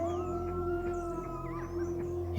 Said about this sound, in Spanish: Cuando iba lejos, escucharon su aullido.